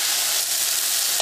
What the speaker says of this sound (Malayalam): ഈ ജിഞ്ചർ ഗാർലിക് പേസ്റ്റ് നമുക്ക് എണ്ണയിൽ ഇട്ടിട്ടൊന്ന് വഴറ്റിയെടുക്കാം